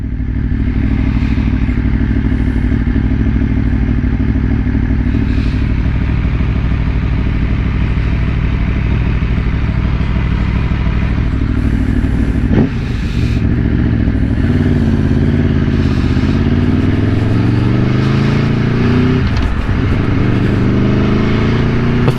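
An Aprilia Tuono V4 1100 Factory motorcycle with Brembo brakes is ridden at steady speed, its engine droning smoothly and loudly with a couple of shift dips and rising pitch as it pulls, heard from on the bike with no talk.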